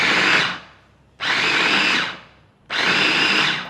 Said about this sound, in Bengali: এখন চিকেনটা ব্লেন্ড করে নিতে হবে